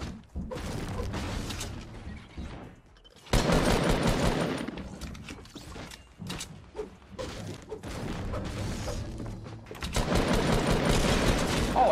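Bursts of shotgun and other gunfire from a Fortnite match come in loud, dense volleys with short gaps, close and punchy, with game noise between the shots.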